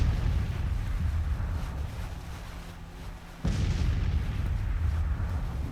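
Smoothbore 6-pounder cannons fire in a Civil War battle, a steady low rumble of distant artillery with one sharper boom midway, the barrage continuing after it.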